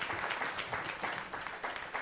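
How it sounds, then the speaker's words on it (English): An audience applauds at a regional housing summit, a dense, steady round of clapping that fills the whole moment at a moderate level with no voices over it. "Let's have a quick round of applause for all those speed run summaries"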